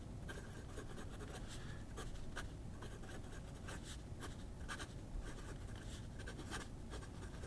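A stiff, fine number 6 steel fountain pen nib writes on paper, giving a close, steady scratchy rasp of strokes with brief lifts between them.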